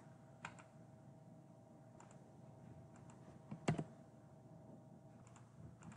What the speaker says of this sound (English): I'm going to just type CMD here.